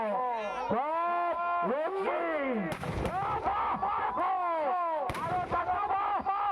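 Firecrackers go off at a Ravana effigy burning during a Rabon Dahon festival in Jhargram. Continuous rising and falling shrill whistles fill the air, broken by two sharp, loud bangs.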